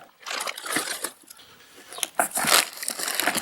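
Plastic wrapping being peeled and crinkled off a packaged replacement turbocharger for a 2014 Chevrolet Cruze 1.4, close and continuous rustling with sharper crackles.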